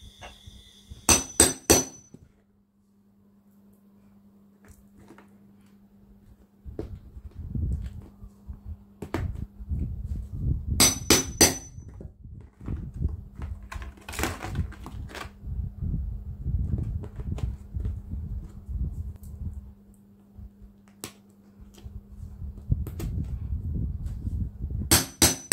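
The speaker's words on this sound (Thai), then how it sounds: "นำหัวหมุดมาวางประกบด้านบนค่ะแล้วก็ใช้เหล็กครอบตอกหมุด" A metal rivet-setting tool hammered onto a rivet on a bag woven from plastic strips, sharp close metallic strikes in quick clusters with pauses between, set against scraping and handling noise.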